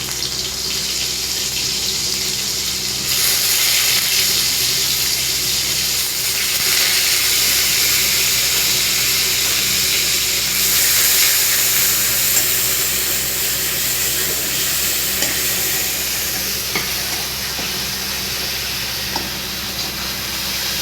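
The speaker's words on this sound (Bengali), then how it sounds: "এখন আমি পেঁয়াজ বাটা দিই।" A steady, loud hiss of onion paste frying in a hot pan after bay leaves, continuous for the whole stretch with slight swells in intensity and no voices.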